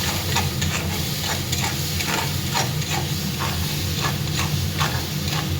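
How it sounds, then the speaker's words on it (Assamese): Turmeric and salt sizzle in a pan with a spice paste from a dried fish chutney, stirred in a steady rhythm of repeated scrapes over a loud, continuous hiss. "এতিয়া মই ভালদৰে লৰাই দিম।"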